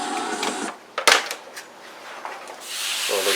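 Coarse 80-grit sandpaper rubbed by hand over the body filler and panels of a 1970 Dodge Challenger during paint prep, making close, scratchy back-and-forth swishes that pause briefly, give a few knocks, then return.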